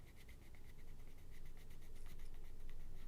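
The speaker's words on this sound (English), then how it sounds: "Drawing Fallout logos, doing Fallout bits and pieces." Pen or marker drawing Fallout logos in a bullet journal, a soft continuous scratching with quick rhythmic strokes, close and quiet, no talk.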